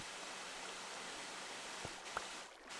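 Steady broadband rush of a waterfall in the video game Minecraft, flowing continuously and evenly at low level throughout, with a couple of faint brief clicks near the end.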